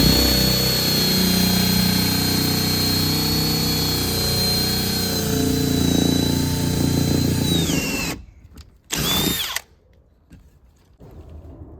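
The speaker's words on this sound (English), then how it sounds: "So I'm gonna secure a structure screw right into here and then another one into here" A power drill drives a structure screw into a wooden fence post, whining steadily and loudly up close for several seconds before it stops, then one more short burst of the drill.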